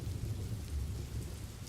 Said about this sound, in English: I'll just settle with some rain